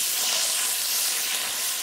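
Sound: onions, shallots, carrots, celery, leek sizzling in Dutch oven

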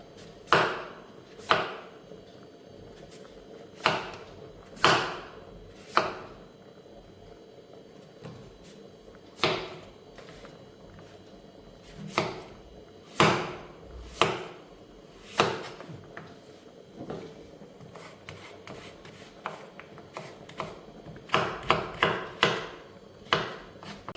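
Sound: knife chopping a pumpkin for Kerala thoran

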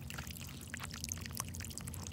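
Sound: 7.5HP agricultural well pump pumping water

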